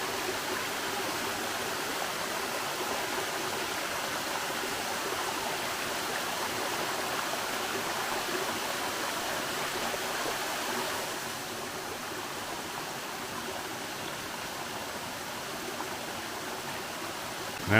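Nancy Town Falls pours strongly after Hurricane Helene, a steady, full rush of falling water heard up close as constant broadband roar without any talking.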